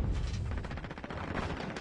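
Dense automatic gunfire from Call of Duty: Modern Warfare during a competitive practice scrim, a rapid rattling string of shots that runs loud and steady for the whole stretch, with no talk over it.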